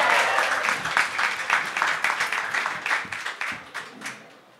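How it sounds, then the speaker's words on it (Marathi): Audience at a Marathi stand-up comedy show applauding a comedian as he is called to the stage, a dense burst of clapping that stays steady and then thins out toward the end. "एकदा जोरदार टाळ्या झाल्या पाहिजे."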